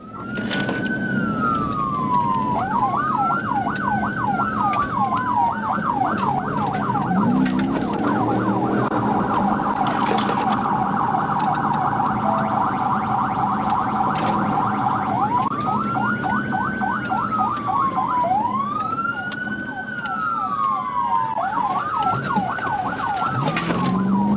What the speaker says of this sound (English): Despite multiple patrol cars behind him with lights and sirens activated